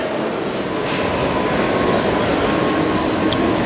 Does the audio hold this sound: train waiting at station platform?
yes